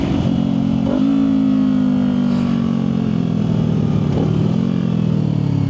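A Harley-Davidson motorcycle riding behind on the road, its engine a steady loud drone with rising and falling pitch as it rolls along, close and continuous with no talking.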